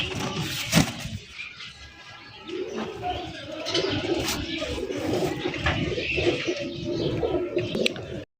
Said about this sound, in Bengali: হলুদ কালারের কিং কবুতর দেখতেই পাচ্ছেন মাশাআল্লাহ